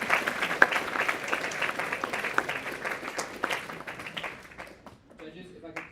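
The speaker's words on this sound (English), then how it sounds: "Can I get one more big round of applause for everyone?" Audience applause at a spring projects presentation night, a crowd of hands clapping steadily then tapering off into sparse claps and a few voices near the end.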